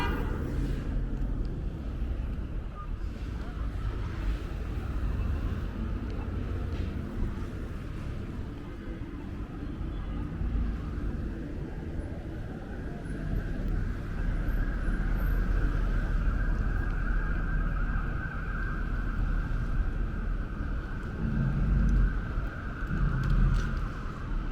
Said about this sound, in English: So you can see the noise level just really picked up as soon as we got across Fort Hamilton Parkway.